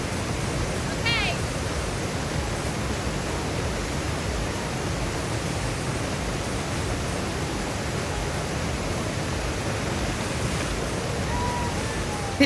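Cold ocean water rushing and splashing at a seaside photoshoot: a steady, loud, wind-blown roar of surf that fills the whole stretch with no break.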